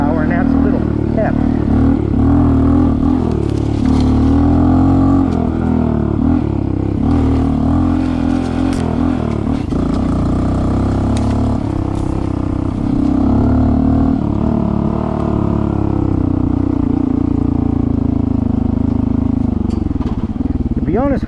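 A Honda CT 125 motorcycle fitted with a big bore kit rides off-road, its engine holding a loud, steady drone with slight rises in pitch while someone talks over it throughout.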